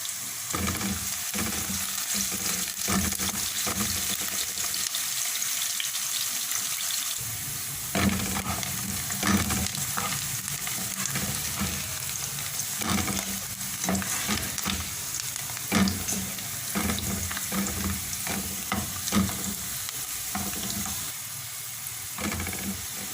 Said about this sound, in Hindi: ये प्याज हल्का सुनहरा फ्राई हो गया।